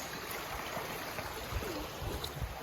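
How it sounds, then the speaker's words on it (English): A flowing stream beside a countryside walking path in the Peaks gives a steady, close rushing wash of water with no talk over it. "It's a stream."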